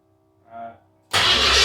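A 1972 Ford Mustang Mach 1 cranks after a quiet pause and a short murmur of voices. Its engine then bursts to life with a sudden loud, broad roar that holds steady at close range.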